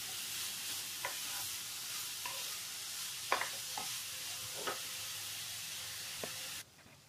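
Grated carrots sautéed over medium heat in a pan for carrot kheer, a soft continuous sizzle with a few scattered stirring scrapes, fairly quiet, ending abruptly.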